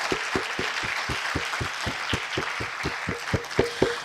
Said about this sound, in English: I believe we can clap better.